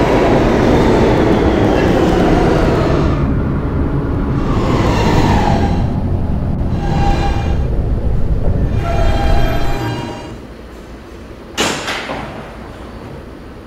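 A Roblox game's R160B subway train rumbles and rattles loudly on the tracks with rhythmic clatter, slowing gradually to a quieter hum, followed by a short sharp electronic tone.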